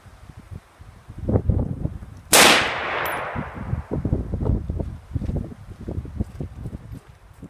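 A single loud, close gunshot from a 6.8 SPC AR-15 rifle fired outdoors, a sharp crack with a long rolling decay, among rustling and footstep-like thumps before and after.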